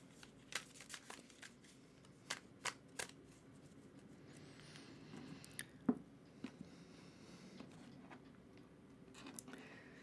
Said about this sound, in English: I'm going to go ahead and give the deck a really good shuffle for you.